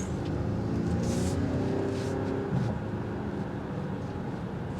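A 2025 Volvo XC60 T8 Plus hybrid SUV accelerates hard, a steady, loud low-frequency engine and road roar that holds throughout with a slight surge midway and faint wind noise above.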